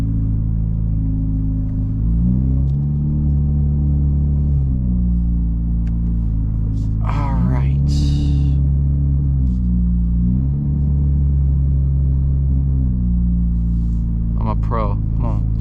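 A purple Corvette C8 Z06 reverses into a parking spot, its engine giving a steady low rumble with a few small rises in pitch, close by, while people talk over it.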